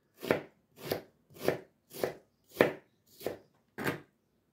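A knife chops an onion on a cutting board in seven evenly spaced, close, crisp strikes roughly every half second, with nothing else heard between them.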